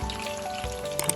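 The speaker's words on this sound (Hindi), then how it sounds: "इसमें हम डालेंगे अपना चॉप गार्लिक।" Chopped garlic hitting hot mustard oil in a pan, giving a steady close sizzle with a couple of brief louder crackles near the end, no voices.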